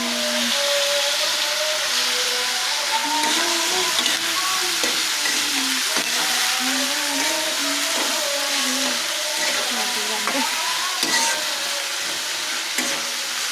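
Loitta dried fish (Bombay duck) frying in oil, a steady crackling sizzle with stirring scrapes, while a tonal hum rises and falls in the background throughout.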